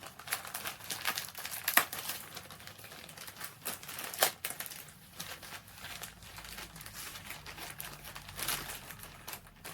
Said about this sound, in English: Sorry it's crinkly.